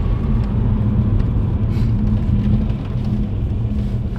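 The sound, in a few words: car with 1.8T engine and DSG DQ250 gearbox driving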